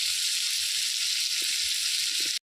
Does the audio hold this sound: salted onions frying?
yes